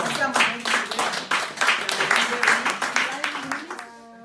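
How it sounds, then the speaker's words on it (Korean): Audience clapping at a year-end gathering of a Korean Christian social development association: moderate, steady clapping for nearly four seconds under a voice that carries through, ending in a quieter tail. "박수 한번 해주시고요."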